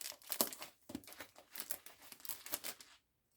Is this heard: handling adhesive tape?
yes